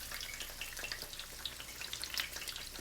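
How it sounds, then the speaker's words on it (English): Chicken tenders frying in hot oil, a dense steady sizzle with crackling, popping bubbles as moisture escapes, close and continuous with no talking. "And see, the bubbling there, that's the sound of the moisture escaping"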